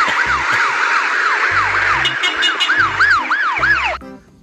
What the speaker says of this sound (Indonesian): Wow, mobil ambulan.